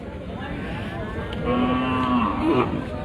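A cow at a busy cattle market before Eid al-Adha lets out a long, drawn moo over the steady murmur of the crowd, rising midway and tailing off near the end.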